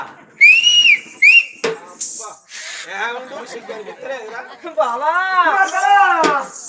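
A person whistles two short, bright rising-and-falling bursts near the start, then voices talk, chatter and laugh over the rest.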